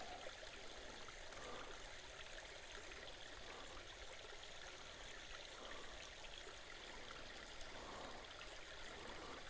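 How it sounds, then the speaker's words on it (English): A small trickle of water runs out of a waterfall at old ruins, a faint, steady, continuous wash of flowing water with no voices. "just a little trickle coming out of the waterfall"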